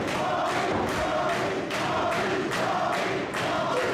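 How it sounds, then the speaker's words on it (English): A wrestling crowd at a Christmas Trios event roars continuously, with rhythmic surges of cheering and chanting filling the arena throughout. "The crowd going crazy."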